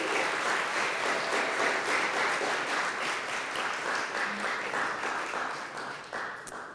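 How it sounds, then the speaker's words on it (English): A room full of people applauds the contestants at a Rotary four-way test speech contest, a dense, steady wash of clapping that holds for several seconds before thinning slightly at the end. "Let's give them a round of applause"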